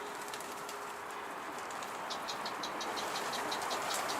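Pigeons around a rooftop coop, heard outdoors as a steady low murmur of soft cooing and chirps with a few brighter calls, moderately distant and continuous with no talking.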